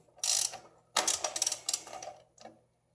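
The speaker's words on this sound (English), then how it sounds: "I'm going to take the 1 inch socket and tighten that up" A ratchet with a 1 inch socket tightening an oil filter adapter on a pre-1993 Mopar 360 engine gives several quick bursts of close metallic clicking, separated by short pauses.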